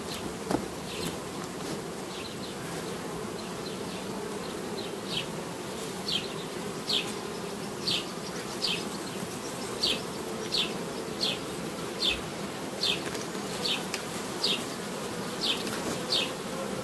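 Honeybees hum steadily from an open hive while brood frames are inspected during colony balancing, a dense close drone broken by regular brief buzzy flicks as individual bees fly past.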